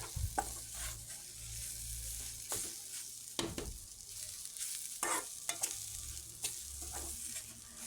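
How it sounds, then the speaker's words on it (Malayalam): Chili and coriander powder fry in oil with onion for a squid roast, a soft sizzle beneath repeated spoon scrapes and taps against the pan, close but fairly quiet, no voices. "ഇതെല്ലാം എണ്ണയ്ക്കകത്തിട്ട് നന്നായിട്ട് മൂപ്പിക്കാം."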